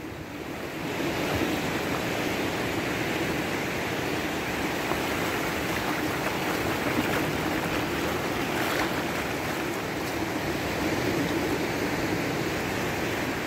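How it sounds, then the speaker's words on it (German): Ocean waves break on the shore at Maspalomas, Gran Canaria, a steady loud wash of surf with wind buffeting the microphone throughout, and no voices. "Jetzt, wenn ich jetzt zuschaue, sehe ich 2, 3 aufeinanderfolgende Wellen."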